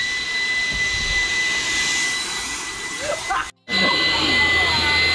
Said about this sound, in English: I had my wife bring out the good vacuum, and well, it's making quick work of things